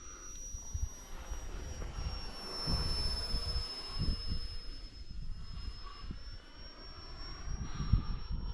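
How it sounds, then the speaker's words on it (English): RC foam jet powered by a 3-cell electric motor flying overhead, a steady high whine with shifting pitch that rises and falls as it passes, over outdoor wind rumble. "Not bad for the 3-cell motor."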